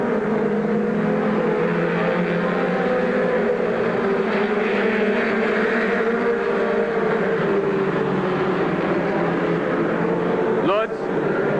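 Race cars circling Silver Spring Speedway, a steady engine drone running throughout and a brief closer pass near the end, with an announcer's voice over the noise.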